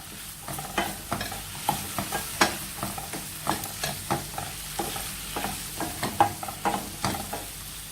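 Capsicum and tomato sautéing in a pan for a Spanish omelette, a soft frying sizzle under regular rhythmic scrapes and taps of a spatula, close and steady with no talking.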